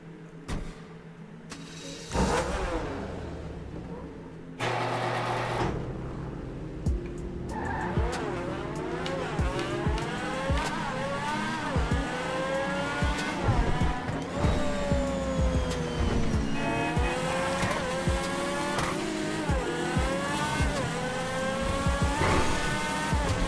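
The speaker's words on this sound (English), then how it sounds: "let's take out the Tyrus, because man, oh man, does this thing sound good" Tyrus supercar in GTA revving hard with rising and falling engine sweeps, tires squealing and skidding, loud and continuous after a few short bursts at the start.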